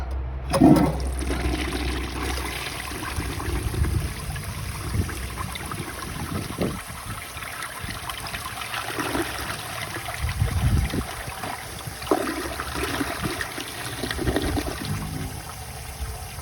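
A 1953 Gerber Arlington toilet flushes a grocery bag, a loud rush of water that settles into sustained swirling and trickling refill noise for over fifteen seconds.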